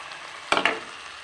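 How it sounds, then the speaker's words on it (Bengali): Cornflour slurry poured into a pan of chili chicken sauce made with chili sauce and chili powder sets off a sudden, close hiss of sizzling that spikes twice and then fades quickly. "এবার কর্নফ্লাওয়ার গুলে রেখেছিলাম সেটা দিয়ে দিচ্ছি।"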